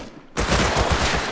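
Sustained rapid automatic gunfire in the survival game Rust, a loud dense burst of shots starting abruptly and continuing without pause, close and harsh, with no talking over it.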